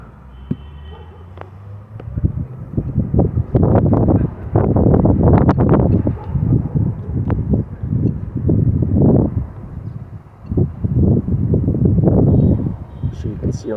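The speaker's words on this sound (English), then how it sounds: "Very windy here in Johannesburg." Strong wind buffets the microphone at a cricket ground in Johannesburg, South Africa, producing loud, rumbling gusts that swell and ease in waves throughout, with no clear pauses.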